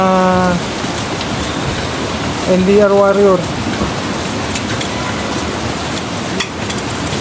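Steady rain hisses and patters throughout, with a brief voice and some bird-like sounds near the start.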